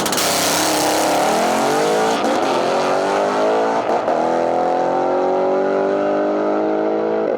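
A no prep drag race car making a full pass down the track, a loud, sustained engine roar rising in pitch through successive gear shifts with brief breaks at each change, staying near and dominant.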